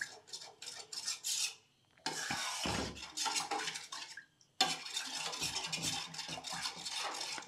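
A metal spoon scrapes and clinks steadily against a bowl while stirring set curd into cooled milk, a continuous rasping with short pauses near and clear.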